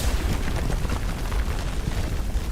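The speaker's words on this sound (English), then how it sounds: "a black cloud overhead lets loose with roiling thunder" Roiling thunder from a black cloud in the game Arknights, a loud continuous low rumble with rolling surges that fills the whole stretch without any speech.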